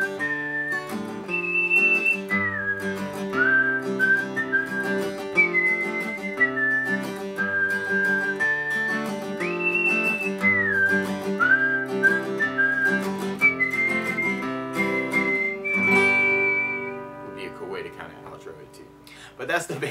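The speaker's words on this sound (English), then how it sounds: "Or sometimes what I like to do too is work my whistling skills." A person whistles a bright melody over strummed acoustic guitar, the tune rising and falling in long notes throughout.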